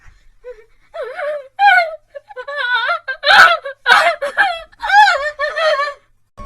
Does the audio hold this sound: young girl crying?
yes